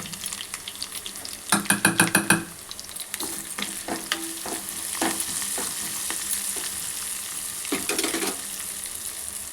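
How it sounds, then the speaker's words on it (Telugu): Crushed garlic, cumin and mustard seeds hit hot oil and sizzle in a pan, with a loud crackling burst early on, then steady frying and occasional stirring scrapes up close. "ఆయిల్ హీట్ అయిన తర్వాత కచ్చపచ్చగా దంచుకున్న ఎల్లిపాయలు, జీలకర్ర,"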